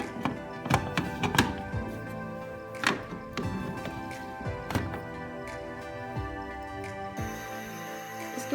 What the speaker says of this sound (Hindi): हम कवर कर देंगे प्रेशर कुकर उसके ढक्कन के साथ।